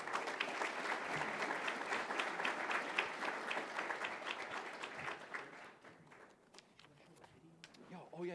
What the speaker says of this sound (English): let's have a nice warm applause for Charles Rubin.